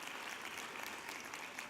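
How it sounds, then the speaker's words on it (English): A round of applause fills a gala ball evening: a steady, crowded wash of clapping from many guests, even and sustained, faintly distant in the room with no voices over it. "let's have a round of applause for TechBridge for putting this huge event on"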